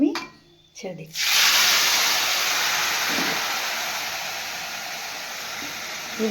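Taro leaves are dropped into hot oil with fried dried red chilli. A couple of short bits of speech come first, then a sudden loud sizzle bursts up and settles into a steady, close frying hiss.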